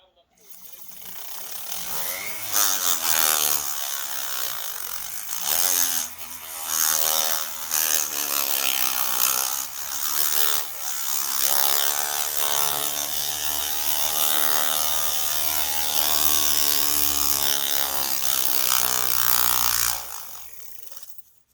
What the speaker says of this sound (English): Just a flap wheel with the piece of sandpaper stuck in there